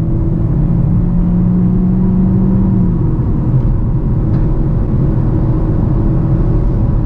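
Lada Vesta Cross with a 1.8 engine and CVT accelerating from 0 to 100 km/h, heard from inside as a steady droning engine rumble with a constant held tone that shifts partway through. No one speaks.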